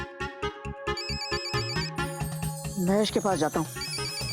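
A mobile phone ringtone plays as a repeating melodic tune from start to finish. Someone talks over it partway through, with a second musical phrase rising underneath near the end.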